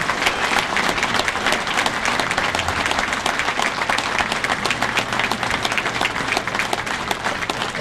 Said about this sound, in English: One more round of applause for Scott Fletcher.